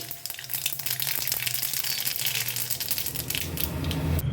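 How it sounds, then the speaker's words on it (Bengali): Mustard seeds hit hot oil in a home kitchen, crackling and popping in dense bursts over a steady sizzle, close and fairly loud, with no talking. "দিয়ে দিলাম সর্ষে ফোড়ন"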